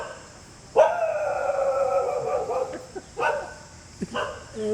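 Dogs at a temple grounds in Siem Reap bark and howl, with one long drawn-out howl followed by shorter yelps and barks, moderately near, and people talk faintly in the background.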